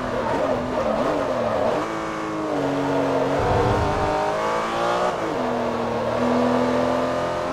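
Ferrari race car in the Forza Motorsport 3 video game, its engine droning and revving steadily with pitch rising and dipping through gear changes, loud and close throughout, no talk.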